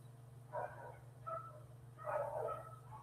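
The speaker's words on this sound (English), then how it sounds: "somebody drove up, got the daycare dogs barking" Daycare dogs barking faintly in the distance, a few separate bursts of barks spread over a few seconds against a steady low hum.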